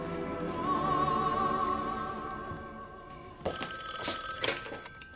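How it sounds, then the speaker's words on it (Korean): An old-style telephone bell rings in two long trilling bursts, the second louder and brighter, with a brief pause between. "조지는 계속해서 울리는 전화를 받습니다"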